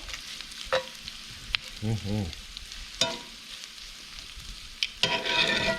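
Pepperoni frying in a pan gives a soft sizzle, broken by a few clinks and scrapes of stirring and a louder burst of sizzling near the end.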